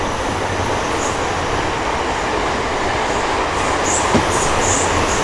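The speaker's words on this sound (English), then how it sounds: "Long train. Long train." A long train rolls past close by, a steady loud rumble and clatter of wagons on rails that holds level for the whole stretch with no talking.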